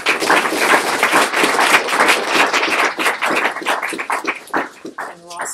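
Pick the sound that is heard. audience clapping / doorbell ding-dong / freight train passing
audience clapping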